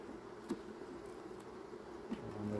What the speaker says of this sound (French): La preuve qu'il fait chaud, on entend les cigales.